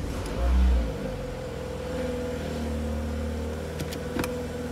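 A Mini Clubman's engine starts with a brief low rumble, then settles into a steady idle hum, close by, with a few light clicks near the end and no talk.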